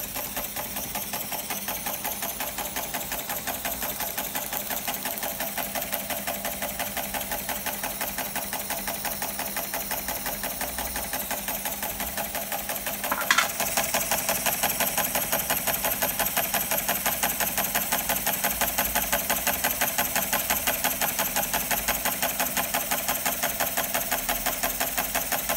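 A homemade steam engine runs with a steady, fast mechanical chugging that holds level throughout, broken near the middle by a brief louder hiss or knock before the churning rhythm carries on unchanged.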